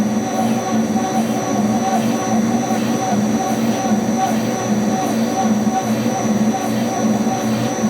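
A shock absorber is cycled on a dyno with a fan blowing on it, producing a loud, continuous mechanical drone with a steady rhythmic pulsing tug. The sound stays constant throughout and is heard up close.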